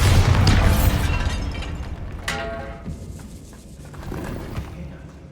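Bombarda spell exploding in Hogwarts Legacy, a loud booming blast at the start that decays into rumble, followed by a second sharper burst and lingering low debris noise.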